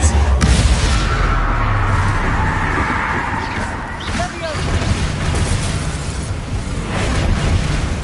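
A Bombarda spell explodes in the Hogwarts Legacy video game with a loud opening boom, then a sustained rumbling roar. Voices talk over the blast.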